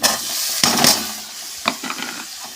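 Tomatoes sauté in a hot pan for pav bhaji, with a steady sizzle and the scrape and clatter of a spoon stirring them in short bursts.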